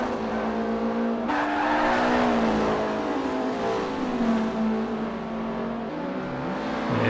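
Race cars sweep fast through a corner on a circuit, with loud, close engines holding a continuous roar as revs rise and fall, alongside possible tyre squeal and no talking.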